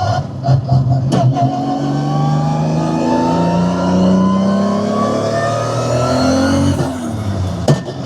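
A Toyota Supra tuned to 1334 horsepower revs hard in third gear under boost, its engine pitch climbing and sweeping loudly up and down over several seconds, close and dominant, with short sharp transients near the start and end.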